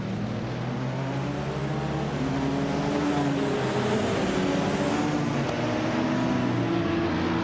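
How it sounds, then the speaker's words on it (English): A 2015 Porsche 919 Hybrid race car in a racing video game gives off a loud, continuous engine drone whose pitch climbs and holds steady throughout. "zooming in that sleek 2015 Porsche 919 Hybrid"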